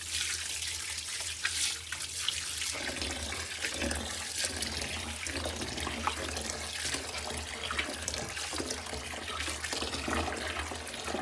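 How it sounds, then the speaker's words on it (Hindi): Tap water runs steadily and loudly into a vessel of soaked lentils being rinsed for haleem, a continuous close splashing flow with some sloshing throughout, no talk. "तो ये देखें, पानी छोड़ लिया हमने।"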